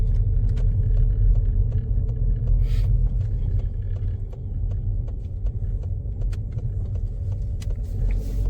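A car turning right during a first driving lesson, with a steady low engine and road rumble, close and continuous, plus faint light clicks and rattles inside the cabin.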